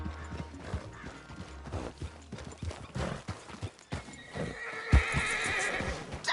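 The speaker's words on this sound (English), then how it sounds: "Damn horse acting up on me, of all the times." Horse in the Red Dead Redemption 2 video game, heard as a loud whinny and a series of hoof clip-clops at close range, with a mechanical clatter and ratcheting sound near the end.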